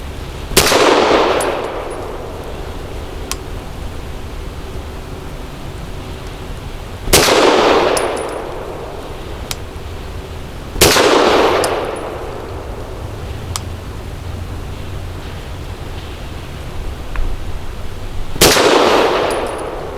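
Four sharp pistol shots from a Walther PDP 4-inch compact, spaced several seconds apart with a ringing decay after each, loud and close against quiet outdoor background.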